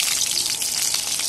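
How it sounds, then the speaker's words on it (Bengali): Brief, dense hiss of new potatoes frying in hot oil for a chicken kosha dish, a continuous bright sizzle with no talking. "তেলটা গরম করে দিয়ে আলুগুলো ভেজে নেব"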